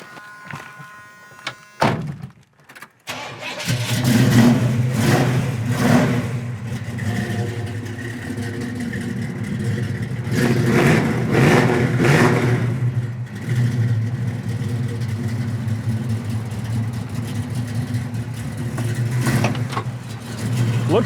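A 1972 Chevy Nova with a big-block Chevy V8 idles loud and close with a deep steady rumble, swelling through several revs after a brief door thunk at the start.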